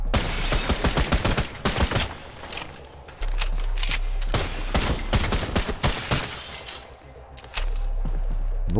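Rapid bursts of gunfire in the video game Trepang2, sharp overlapping shots and automatic volleys cracking in clusters over several seconds, with brief pauses and a constant low background hum.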